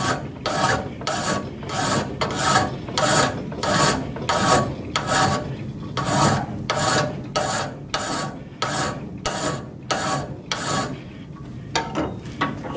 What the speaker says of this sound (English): So I'll do a little bit of filing just for fun, just for the sake of uniformity.